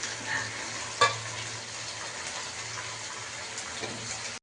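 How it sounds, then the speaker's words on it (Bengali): A jaggery sandesh mixture is stirred in a pan, a soft continuous scraping and gentle sizzle with one brief clink of the utensil near the start. "এটাকে মিশিয়ে নেওয়া হচ্ছে, তাই তো?"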